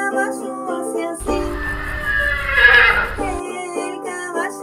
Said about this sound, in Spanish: El caballo hace así.